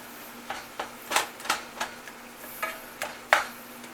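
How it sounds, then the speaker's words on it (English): A small spatula chops and presses hamburger meat into smaller pieces as it fries in a pan for stroganoff, giving a series of about ten short scraping, clacking hits at an irregular pace over a faint sizzle. "pound your hamburger down into pieces, into smaller pieces"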